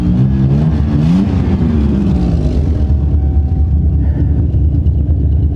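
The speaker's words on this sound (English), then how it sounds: "Exhaust sounds awful." A car engine on a cold start rumbles steadily up close, with a rough, uneven exhaust note and a brief rise in revs near the start.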